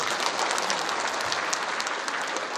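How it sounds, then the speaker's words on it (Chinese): A crowd at a Houston Chinese Spring Festival gala applauds, producing a steady, full sheet of clapping with no pauses. "让我们再次把掌声送给圣诺一家"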